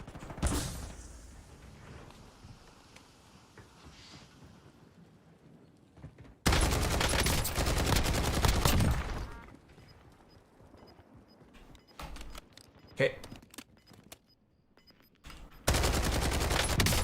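Call of Duty Warzone Resurgence solo match gunfire comes in loud sustained bursts, one long volley in the middle and another at the end, separated by quieter stretches with faint scattered shots.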